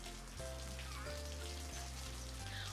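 Steady rain-like patter fills the clip as a dense, continuous wash, with a few low thumps marking a rough beat; the sound is presented as an imitation of falling raindrops in a lesson on sounds made by people.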